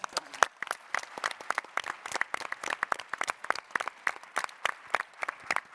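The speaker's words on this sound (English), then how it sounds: "we're going to have applause for the panel, but we're going to have applause for you right now" Applause for a panel at an agricultural roundtable conference, heard as many separate hand claps in a loose, steady patter at moderate distance, with no voices over it.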